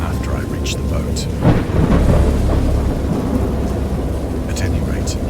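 Thunderstorm sound effect: steady heavy rain hiss with a deep rolling thunder rumble swelling in the middle, loud and close, with a few sharper splashes and no talk.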